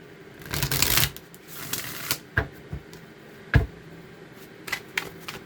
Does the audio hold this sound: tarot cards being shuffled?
yes